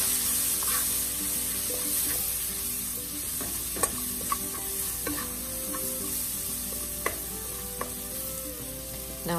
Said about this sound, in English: I'm going to add my onions and my pimento and give that a little turn up